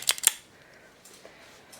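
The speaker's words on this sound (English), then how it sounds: "I found a pair of scissors" Two quick metallic snips or clicks close by from scissors, then near silence, with another sharp click at the end.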